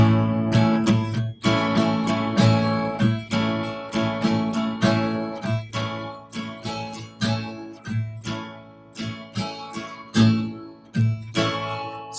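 Rhythmic guitar strumming with sharp, choppy strokes, the second downstroke damped into a short percussive chuck, repeating steadily with no voices.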